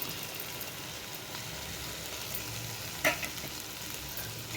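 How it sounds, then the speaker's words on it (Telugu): Soya chunks (meal maker) fry in a pan, a steady, even sizzle throughout with one brief sharp clink near the end. "మిల్ మేకర్ ఇలా ఒక 2 మినిట్స్ ఫ్రై చేసుకోవాలి"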